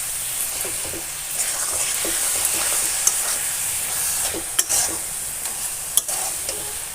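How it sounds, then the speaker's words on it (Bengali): Sweet coconut filling for Bengali pitha, with cardamom and milk cream, being stirred dry in a pan: a gentle hissing sizzle with soft scrapes and a few sharp ladle taps against the metal, nearby and unaccompanied by speech. "এটাকে ভালোভাবে নাড়া দিতে দিতে শুকিয়ে ফেলবো"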